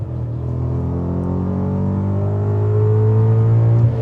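A 630 bhp supercharged BMW E39 M5 accelerates hard on the autobahn, its engine note climbing steadily as it winds up, loud and continuous from inside the car.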